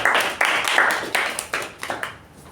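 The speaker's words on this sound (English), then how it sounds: "Let's give him a round of applause" A handful of people clap for the Toastmaster at a club meeting, sparse individual claps in an uneven rhythm that thin out and fade over about two and a half seconds.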